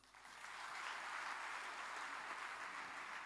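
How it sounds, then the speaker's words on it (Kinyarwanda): A church congregation bursts into applause that swells within half a second and holds steady as dense, continuous clapping. "Komera Imana amashyi."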